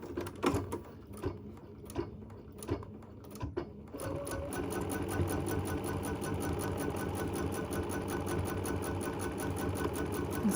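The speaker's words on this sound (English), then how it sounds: "we're gonna stitch it down" Sewing machine running steadily as it stitches fabric in an embroidery hoop, a continuous close mechanical whir after a few brief handling clicks and taps.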